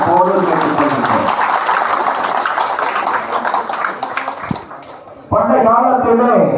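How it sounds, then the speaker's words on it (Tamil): Audience applause and clapping welcoming a guest at a Tamil public gathering, a sustained crowd clapping mixed with a speaker's amplified voice, fading before the talk resumes loudly. "உங்களுடைய கரகோஷங்களை செலுத்தி அவரை வரவேற்குமாறு போது கேட்டுக்கொள்கின்றோம்."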